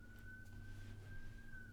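A faint police car siren wails steadily in the distance, a thin high tone drifting slightly in pitch over a low background hum.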